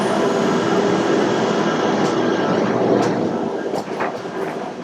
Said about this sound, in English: We've now gotten on the gondola heading out to Pop Century and Art of Animation.